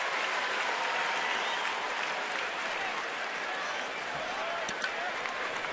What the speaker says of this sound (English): Hot night in the city. Big crowd.